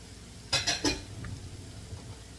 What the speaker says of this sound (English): Stir that around for a little bit.